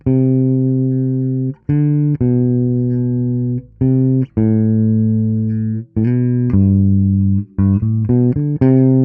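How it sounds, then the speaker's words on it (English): A bass guitar plays a deep, sustained bass line in long held notes with short gaps between phrases, loud and alone with no talking. "So this is the original bass line."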